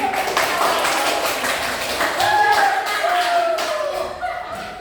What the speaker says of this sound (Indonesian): Beri tepuk tangan untuk ibu.